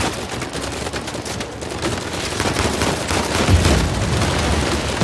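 Rapid bursts of Uncharted 4 gunfire on PS4 crackle almost nonstop, dense and loud, with heavier booms near the end.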